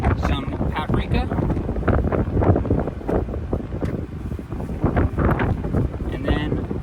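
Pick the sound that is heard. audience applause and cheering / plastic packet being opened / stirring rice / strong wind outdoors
strong wind outdoors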